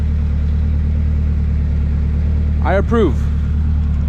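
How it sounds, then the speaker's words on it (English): A turbocharged K20 all-wheel-drive car idles through a custom stainless oval exhaust, giving a steady, loud, low rumble throughout. Someone speaks briefly over the engine. "you can hear the idle of the car."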